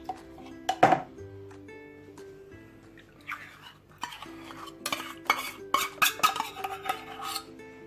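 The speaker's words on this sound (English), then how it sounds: "And then mix everything together." Milk cake ingredients are mixed in a bowl, with clinking utensil taps and scraping strokes that grow busier and more rhythmic in the second half, close and fairly quiet, no talk over it.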